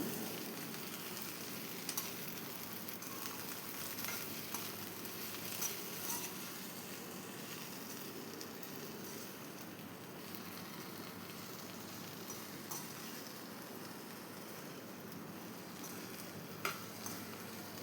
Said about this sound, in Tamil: உப்பு சேர்த்ததுக்கப்புறமா நல்லா வதக்கி விடுங்க.